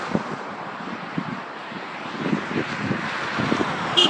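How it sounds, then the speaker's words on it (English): Strong storm winds blowing in Sydney, Nova Scotia produce a loud, steady roar of buffeting gusts across the microphone, rising slightly toward the end with rumbling low thumps throughout. "Right now, winds picking up."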